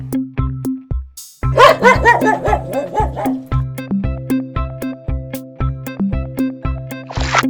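A farm animal toy sounds a series of yappy dog barks over a repeating rhythmic tune, loud and close, barks clustered in a quick burst.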